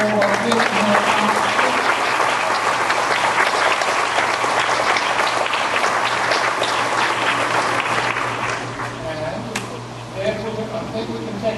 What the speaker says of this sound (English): Have a round of applause for all of our kids.